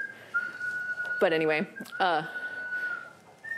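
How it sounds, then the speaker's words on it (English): A lung-powered whistle with selectable pitches holds a steady, thin, high tone for several seconds while someone briefly speaks over it, close and moderately loud. "You can select pitches and play them on this whistle."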